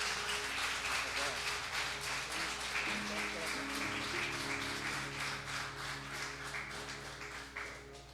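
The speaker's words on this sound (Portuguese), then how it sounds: "que suas palmas louvem o nome do Senhor." A church congregation claps in a steady rhythm at a worship service, faint and fairly distant, over sustained background tones and voices.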